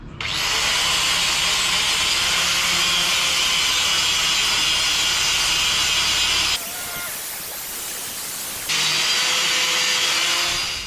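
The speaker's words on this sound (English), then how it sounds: "so I'll get grinding it flat" A power grinder grinds a weld flat in a workshop, giving a loud, sustained abrasive roar with a brief dip in the middle before resuming at full intensity.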